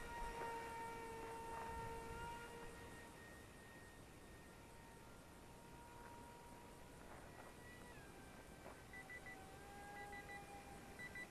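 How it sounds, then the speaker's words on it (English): Steady electronic beeping tones from the transmitter alarm of an Eachine Mini Wing Dragon 540mm RC glider, some held and some pulsing, over a constant loud whirring hum. "No, that's the transmitter alarm."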